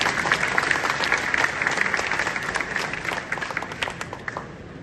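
Audience applause with scattered cheering at a gems and jewelry industry session, dense steady clapping from a large crowd that carries throughout and tapers slightly toward the end.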